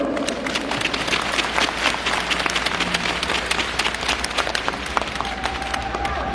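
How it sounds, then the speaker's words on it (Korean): A stadium-style crowd applauds steadily at a football club's season-end farewell greeting, broad continuous clapping with scattered cheers, fairly distant and even in level for the whole stretch. "큰 박수 부탁드립니다"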